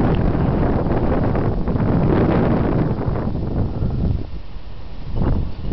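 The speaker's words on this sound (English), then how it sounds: "We got wind gusts right now." Strong wind gusts batter the microphone in a tornado storm near South Bend, Indiana, a loud rumbling roar that surges and eases, dropping briefly before another gust rises near the end.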